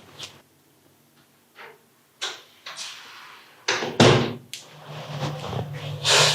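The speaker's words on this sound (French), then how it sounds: "Bon, ferme ma porte." A door closing in a home, several knocks and bumps building to a loud thud, with faint room noise around it and no talk.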